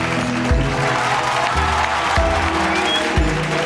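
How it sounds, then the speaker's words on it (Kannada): Studio audience on a comedy show clapping steadily at a moderate volume, with a few deep thuds recurring underneath and faint crowd noise. "ಬರ್ಲಿ ಚಪ್ಪಾಳೆ"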